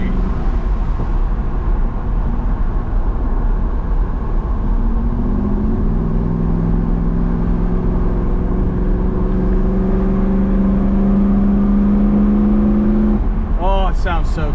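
A 1992 Mercedes-Benz 500SL cruises with a steady engine hum and road rumble from inside the cabin, the engine note rising in pitch midway as it accelerates, then easing off; brief clatter near the end.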